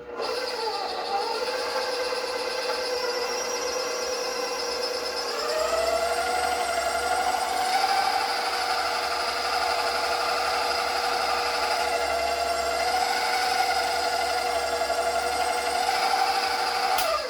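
A stand mixer with a pasta roller attachment runs homemade pasta dough through, giving a steady motor whine with a rising and falling pitch that continues for the whole stretch, no talking.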